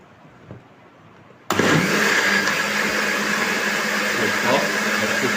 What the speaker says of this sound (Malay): Bila dah tambah air sikit tu kita blender lagi biar dia cair sikit.